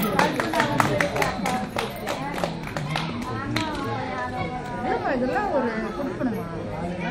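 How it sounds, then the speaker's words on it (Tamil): An audience at a Tamil Maha Shivaratri religious discourse claps for the singers, a scattered patter of hands over steady chatter and children's voices throughout. "அவங்களுக்கு ஒரு கைத்தட்டு நம்ம கொடுத்துடலாம்"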